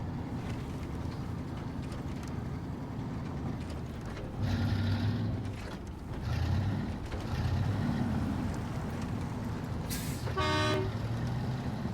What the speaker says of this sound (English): It's a fairly satisfying horn.